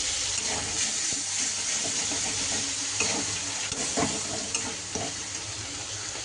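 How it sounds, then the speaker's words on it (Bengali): Cumin and spice paste ground on a grinding stone fries in oil with tomato for a jackfruit curry, giving a steady close sizzle with scattered scraping stir knocks. "এবার মশলাটাকে আমি ভেজে নেব"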